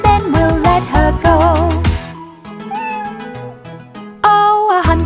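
Bright cartoon cat meows ring out loud and tuneful within a playful children's animal song, several in quick succession with musical accompaniment around them.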